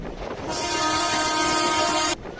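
A train passes close by and a loud sustained horn blast holds for about a second and a half over the rumble of the rail cars, with no talking.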